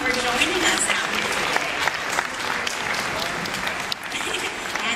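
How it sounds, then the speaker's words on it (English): An audience at a multi-species show at Chicago's Shedd Aquarium claps in a dense, sustained round of applause after a bird's appearance, while a presenter's amplified voice carries over it. "let's get a nice round of applause for Tahoma for joining us out here"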